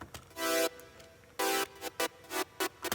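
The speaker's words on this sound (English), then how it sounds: "First layer I have here is just like a quiet high frequency layer." A quiet, high synth layer from a 90s house track plays alone, with a few longer bright tones and shorter plucked stabs spaced irregularly.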